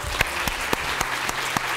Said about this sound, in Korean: 저희 스폰서랑 자원봉사자들한테 정말 큰 박수 한번 보내주시기 바랍니다.